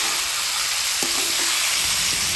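Chicken pieces coated in spices are turned over in a hot pan for biryani, giving a steady close sizzle with a few soft scraping strokes of the spoon.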